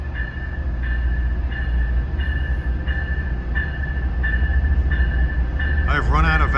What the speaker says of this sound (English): here comes train 809, heading off on his long journey down to Wickford Junction